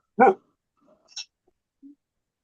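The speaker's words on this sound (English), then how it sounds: "sounds like the dog agrees with you, Justin." A dog gives one short, sharp bark in a live studio broadcast, followed by faint scattered sounds and silence.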